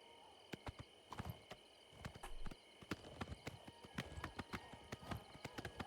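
Horse hooves clip-clop in a steady walking rhythm in the video game Oblivion, sharp repeated knocks over a faint hum of background ambience, with no one talking.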